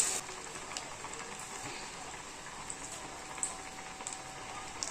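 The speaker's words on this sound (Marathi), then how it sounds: "हे वडे आपल्याला असे ताटावर वगैरे करून ठेवायचे नाहीयेत, लगेच आपल्याला तेलात सोडायचे आहेत." South Indian mixed dal vadas frying in hot oil, a soft, continuous crackling sizzle with scattered pops, fairly quiet, and no one talking.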